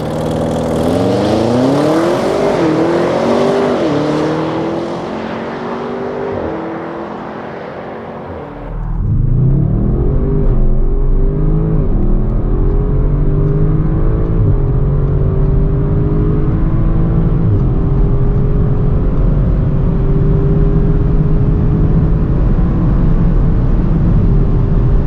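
Audi RS6 accelerating hard from a standstill, engine roaring loud and close with rising revs through several gear changes, a brief dip and drop, then a sustained heavy drone as speed builds.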